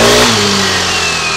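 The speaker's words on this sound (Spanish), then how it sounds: "El motor suena muy bien y sube muy bien de vuelta." A Kymco Super Dink scooter engine revs up, a loud, close mid-pitched whine that climbs briefly and then holds steady.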